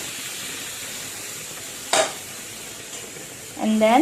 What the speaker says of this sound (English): give it a slow stir